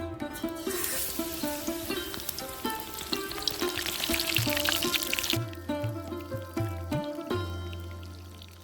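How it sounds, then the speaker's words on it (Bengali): Battered spinach fritter dropped into hot oil for deep frying, a dense bubbling sizzle with scattered pops that later settles into a lighter, steadier crackle, close and loud with no talking. "এবার এটাকে আমি ভেজে নেবো"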